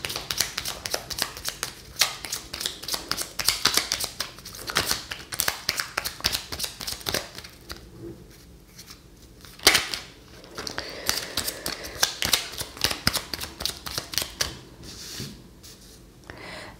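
Petit Lenormand cards handled, shuffled and drawn during a reading: a dense run of crisp close-up card flicks, snaps and rustles, with a brief quieter pause before the handling picks up again.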